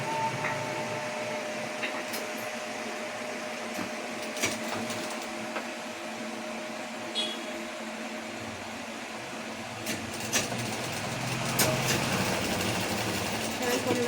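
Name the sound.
sewing machine stitching fabric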